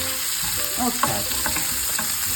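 A spoon stirs asparagus risotto in a pan, making soft scraping strokes over a steady gentle sizzle, up close and without any talking.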